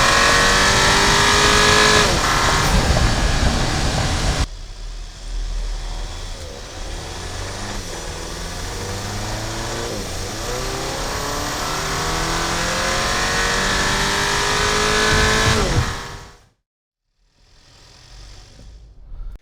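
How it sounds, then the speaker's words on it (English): A turbocharged Audi engine revs loudly from a brake-held launch and climbs through gears with a rising whine, then cuts off abruptly before a brief fainter burst. "I'm glad that I was able to capture that cool turbo noise"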